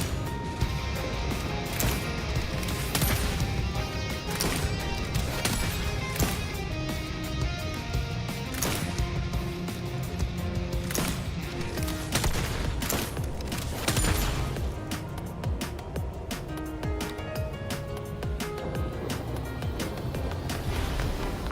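Rapid gunfire and ability effects from the Wuthering Waves action game, dense bursts of shots and impacts layered over continuous loud music and combat noise, steady throughout.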